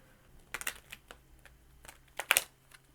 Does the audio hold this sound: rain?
no